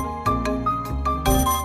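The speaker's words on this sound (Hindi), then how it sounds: "फोन आ गया।" A phone rings with a bright electronic ringtone, three short bursts of chiming tones repeating in a quick pattern.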